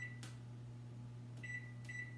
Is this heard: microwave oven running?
yes